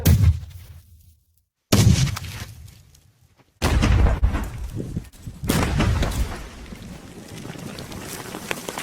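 An RGD-5 hand grenade detonates outdoors near a target, with heavy booming blasts that cut out abruptly and return as loud, rumbling, wind-buffeted roars.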